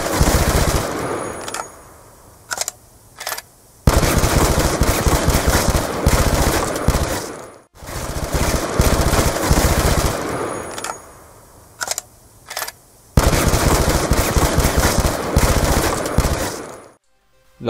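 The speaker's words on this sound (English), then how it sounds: "That was Type 25 right there" A Type 25 rifle from Call of Duty Black Ops 2 fires loud, rapid close bursts, broken by short pauses and isolated single shots, with mechanical reload clicks between the volleys.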